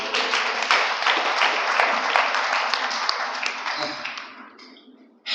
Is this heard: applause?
yes